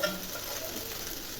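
Avakaya mango pickle rice stirred in a pan over a low flame, a soft steady sizzle with faint scraping of the spoon, close and quiet, with no talking.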